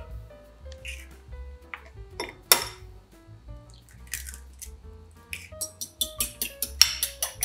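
Eggs whisked in a bowl with a utensil: scattered clinks at first, then a faster run of light, rhythmic taps against the bowl, close and clear with no talking.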